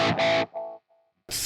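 A distorted electric guitar run through a Gokko delay pedal, a loud chord followed by fading repeats that trail off into quieter echoes before another strummed burst returns.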